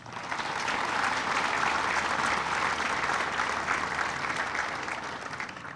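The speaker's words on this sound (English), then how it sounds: "Please recognize them with your applause." Sustained applause from a ceremony audience at a ribbon cutting for a grid storage facility, dense steady clapping at even loudness throughout, with no voices over it.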